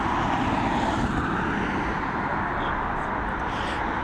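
A TUI airliner at Dublin Airport gives off a steady broad engine roar, loud and constant at close range, with no break across the whole stretch.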